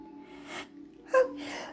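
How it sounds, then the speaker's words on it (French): A single sharp sneeze from a woman indoors, preceded by a faint breathy inhale, short and close over a quiet steady hum. "Je vais éternuer."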